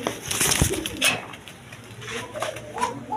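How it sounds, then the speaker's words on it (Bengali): Large pigeons coo at a wholesale bird market, their soft throaty calls rising and falling across a few seconds amid background bustle and faint voices. "দেখেন, একদম বিগ সাইজের কবুতর"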